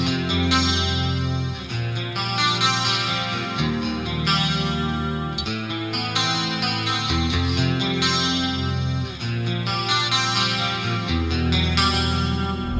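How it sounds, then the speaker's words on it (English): Clean electric guitar through the Nolly X amp plugin with compressor, delay and reverb, playing a steady chordal, poppy part with lush echoing tails and chorus-like shimmer, loud and continuous with no talking. "Nolly X also has a fantastic guitar compressor pedal and a lush post-effect delay and reverb"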